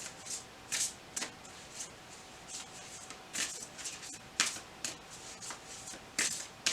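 Tarot cards shuffled by hand for a reading, giving a run of crisp papery riffling bursts at an uneven rhythm, close and fairly quiet with a faint steady hum beneath and no talk.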